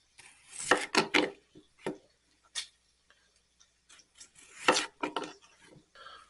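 A knife chops yellow potatoes into half-inch pieces on a cutting board, producing clusters of quick, close, crisp taps separated by short pauses.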